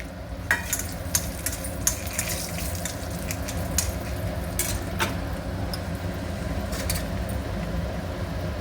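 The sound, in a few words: asafoetida and dried red chillies frying in oil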